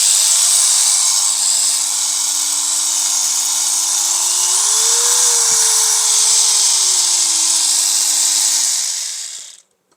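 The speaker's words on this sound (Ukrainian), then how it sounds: "Давайте включимо, подивимося, як він працює. Ставимо мінімальні оберти." Rizachok 360W angle rotary engraver whirring steadily at its minimum speed setting, a loud continuous high-pitched motor whine with a slight pitch rise midway, running alone for about nine seconds before cutting off.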